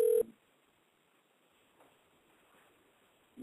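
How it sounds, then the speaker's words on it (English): A single short telephone keypad tone sounds at the start, followed by near silence and a faint return of phone-line sound at the end. "She's dialing."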